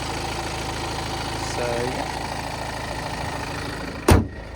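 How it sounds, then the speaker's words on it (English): Mini Cooper SD with a 2-litre diesel engine idles steadily, a low even chug held close throughout, with a brief sharp knock near the end and a short spoken word over it. "So there's your 2-litre diesel, chugging away nicely."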